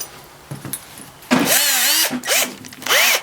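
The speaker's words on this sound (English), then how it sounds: "I guess I got a small drill here." A small electric drill bores through hardened grease in an old equipment shaft, whirring in several short, loud bursts with rising and falling pitch and brief pauses between them.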